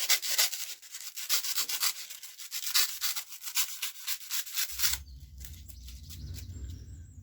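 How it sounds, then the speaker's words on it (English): Repeated rasping cuts trimming a craft piece for tabletop terrain for a D&D sacred pool, steady rhythmic strokes for about five seconds, then a low hum of handling noise and a faint rustle. "And cut a bit more off."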